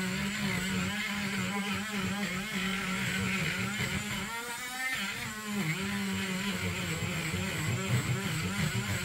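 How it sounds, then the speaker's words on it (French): A Dremel rotary tool cleaning the platter of a Technics SL MK2 turntable, a continuous high whine with shifting pitch as pressure changes, close and steady without talking. "Et ne pas hésiter à appuyer avec la Dremel."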